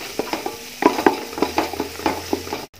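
Biryani masala with green chilies is sautéed in a pan, with a soft sizzle under repeated scraping stir strokes of a spoon, close and steady.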